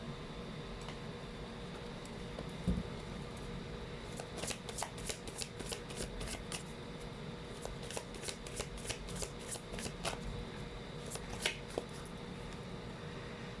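Tarot cards are shuffled by hand in quick, riffling bursts of close papery flicks, repeated in several clusters over a steady background hiss with no speech.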